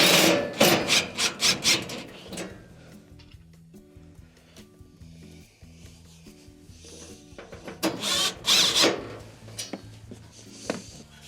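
Screws going back into a stove panel during an Amana bake ignitor repair: bursts of rasping, scraping metal-and-wood friction strokes, several rapid runs at the start and again later, with quieter tonal hum and clatter between, close up and with no speech.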